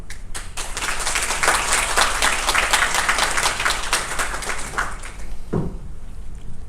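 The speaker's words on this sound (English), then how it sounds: "Come on, clap." Audience applause at a reception during a water and wastewater management seminar in Bangkok: dense, sustained clapping from a crowd that thins and fades out near the end, followed by a brief thump.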